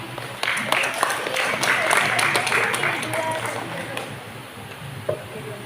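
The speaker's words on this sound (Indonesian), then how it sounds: "Kasih aplaus dulu temannya" An audience claps for a team in a school impromptu debate semifinal, a dense burst of applause that swells quickly, holds for a few seconds and then thins out, with crowd voices mixed in.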